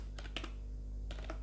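Short bursts of typing on a computer keyboard, a few quick clustered key clicks, a pause, then another cluster, close and fairly quiet with no speech.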